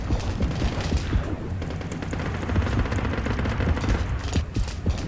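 Weapon fire from the video game DEPTH, a steady stream of rapid shots rattling on throughout at a fairly loud, dense level, with mechanical clatter mixed in.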